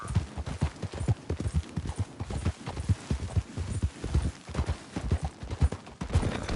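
Horse hoofbeats gallop at a steady fast rhythm in the Western video game Red Dead Redemption 2, loud and close, a continuous drumming of hooves with no speech over it.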